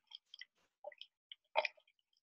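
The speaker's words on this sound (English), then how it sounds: "You can really hear it munching and crunching that coral." A rainbow parrotfish bites and scrapes coral on a reef underwater, giving a handful of short, irregular crunching clicks, faint and isolated, with one louder crunch near the end.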